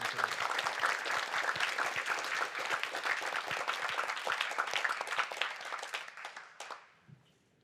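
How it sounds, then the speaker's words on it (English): Audience applause at an awards ceremony, a dense steady wash of many hands clapping that holds at even strength, then tapers off and fades out near the end. "can we have a round of applause for her?"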